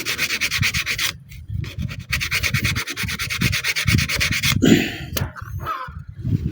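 Sandpaper rubbing rusty parts of a TMX 125 motorcycle in quick, rhythmic back-and-forth strokes, loud and close, with a couple of short pauses and a scrape in between.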